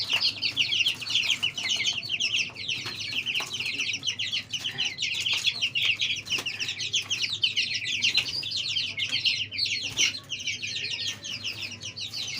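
Baby chicks, a batch of thirteen, chirp and cluck continuously in a dense, loud chorus of high peeping calls with no pauses, heard close up and without talk.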